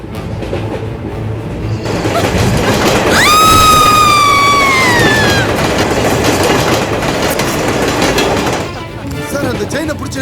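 A train running on rails, with a steady loud rumble and clatter throughout and a sustained high wheel squeal in the middle before the noise eases.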